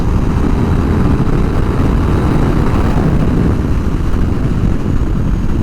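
A 2024 KTM 1390 Super Duke R EVO pulls hard in fifth gear at around 4,000 rpm. Its engine gives a loud, steady roar mixed with heavy wind rush for the whole stretch.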